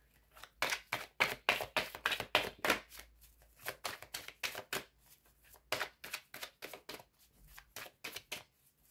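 Tarot cards are shuffled by hand for a reading in a rapid series of crisp riffling and slapping bursts, close and fairly quiet, with no talking.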